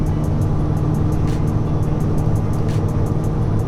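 A Ford Mustang Foxbody with an 8.8 rear end cruising in fifth gear at about 70 mph and 2,400 to 2,500 rpm, heard from inside the cabin as a steady, loud engine and road drone with faint, regular ticking above it.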